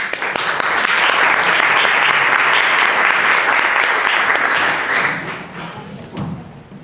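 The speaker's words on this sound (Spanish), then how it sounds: "le damos un aplauso" Audience at a psychology faculty panel applauding a speaker, a dense round of clapping that stays strong for several seconds, then thins and fades out with a few scattered claps and thumps at the end.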